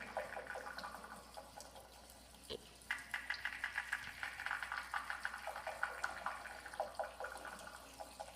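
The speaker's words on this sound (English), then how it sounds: "You recognize what the sound is, the water." Water trickles and splashes in rhythmic, close bursts with soft drips and swishes, part of an ambient music piece, with a single low thud partway through.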